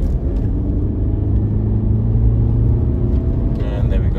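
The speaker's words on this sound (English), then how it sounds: "So 20 mile an hour in second gear, put my foot down from 2000 RPM." 2018 Skoda Kodiaq 2.0L TDI diesel accelerating hard in second gear from about 2000 RPM, a loud, steady engine drone and road rumble heard from inside the car, no one talking.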